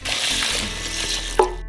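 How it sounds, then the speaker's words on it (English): Two litres of water poured into a saucepan holding a kilogram of buckwheat, a continuous close splashing pour ending with a short clink. "Pour in 2 liters of water"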